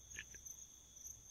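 Crickets chirping in a quiet video game forest: a faint, steady high-pitched trill runs throughout, with a few brief chirps near the start, and no music or voices.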